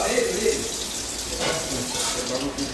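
Running water splashes continuously over raw chicken being washed by hand for a barbecue, a steady near gush with faint background voices.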